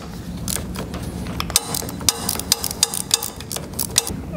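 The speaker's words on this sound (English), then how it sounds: "So I'll use a wrench instead." A ratchet wrench turns bolts during a gear pump replacement on a Bettis electro-hydraulic operator, giving a quick run of sharp, close metallic clicks over mechanical rattling.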